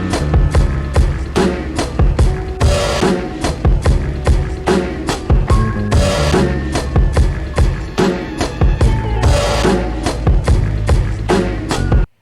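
A boom bap hip-hop beat plays loud and full, with punchy drums, deep bass and a looped sample driving a steady rhythm throughout.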